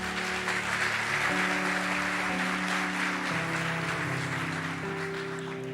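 A church congregation applauds steadily throughout a worship service, a broad continuous wash of clapping carried under sustained music with held organ or keyboard tones.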